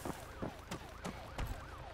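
An ambulance siren in the Arma 3 video game, a SAMU emergency vehicle approaching at about 5 a.m., wails in a repeating rising and falling pattern, mid-loud, with periodic sharp thumps over it and no speech.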